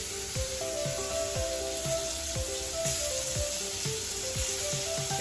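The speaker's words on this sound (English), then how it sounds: "We are going to just add these into the oil. Just quickly get them swimming in there." Lemon slices sizzling in hot oil in a skillet, a steady close hiss of frying that continues evenly throughout.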